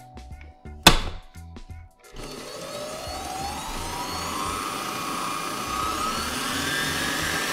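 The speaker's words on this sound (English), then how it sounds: "All right, let us start creaming." A stand mixer creams butter and sugar, starting with a few clunks and a sharp knock before a steady whirring drone sets in and holds.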